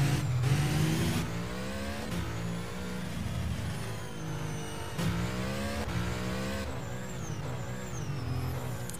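An F1 car engine screams through high revs around Monaco in the rFactor racing game, loud and continuous with repeated upshifts and rising pitch sweeps, no voices over it.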